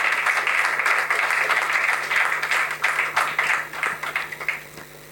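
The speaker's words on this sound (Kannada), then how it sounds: "ಒಂದು ದೊಡ್ಡ ಚಪ್ಪಾಳೆ ನಮ್ಮ ಶ್ರೀಕೃಷ್ಣ ಅವ್ರಿಗೆ ಬೇಕು." Audience applause at an award and inauguration ceremony for a drama festival: a steady wash of many hands clapping, sustained and fairly loud, thinning into scattered claps near the end.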